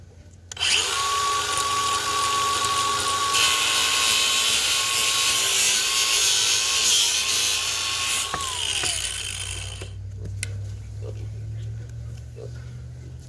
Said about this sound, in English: That makes it a lot easier using that grinder.